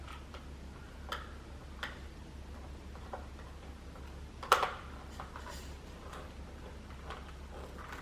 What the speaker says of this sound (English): So we're going to screw one in the back.